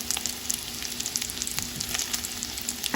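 Pieces of beef tongue seasoned with black pepper fry in a pan, a dense continuous sizzle dotted with sharp crackling pops, close and moderately loud, no one talking.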